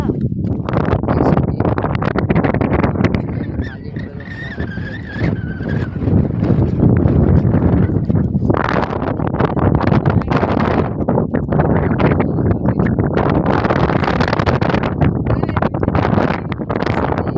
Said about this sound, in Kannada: ಗಾಳಿ ಫುಲ್ ಜೋರು ಫ್ರೆಂಡ್ಸ್. ಗಾಳಿ ಜೋರು ಫುಲ್ಲು.